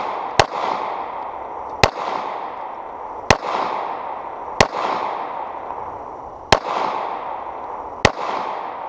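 Six sharp, loud HK VP40 pistol shots fired at a pole, spaced about one to one and a half seconds apart, each followed by a ringing decay, with no talking.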